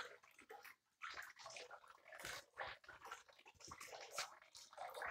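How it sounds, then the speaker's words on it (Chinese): Water pours and splashes into a small bath being filled with milk for a pet monkey, a continuous faint gurgling flow with shifting sloshes, close by and quiet. "给西西泡个牛奶浴"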